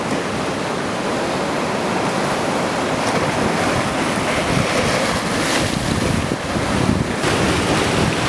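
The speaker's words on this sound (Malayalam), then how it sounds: "അവിടെ നിന്ന് ഇങ്ങോട്ട് തിരമാല വരുന്നുണ്ടല്ലേ?" Ocean waves break continuously on an island shore with a broad, roaring wash of surf, loud and close. Heavy wind buffets the microphone throughout, and no one speaks.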